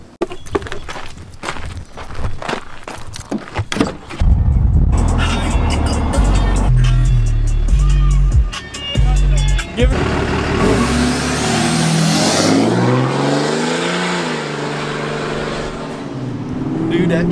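A lifted truck's engine revs loudly and rumbles as it drives off, with a roaring surge partway through, while voices talk over it.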